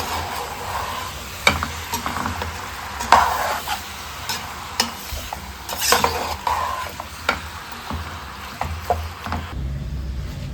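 Pork for a pickle fries and sizzles in a pan, with repeated stirring scrapes and spoon knocks against the pan over a steady hiss.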